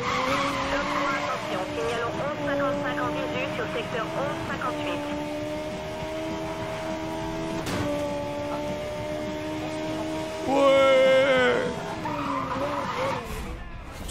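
Racing car engine from the Need for Speed video game, whining through rising and falling gear pitches during a race against the police, with tire skids and a louder burst near the end, while a voice talks over it.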